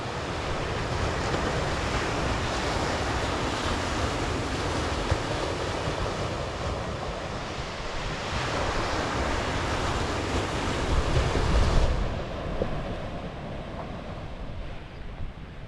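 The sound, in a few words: sea waves on the beach, Jurassic Coast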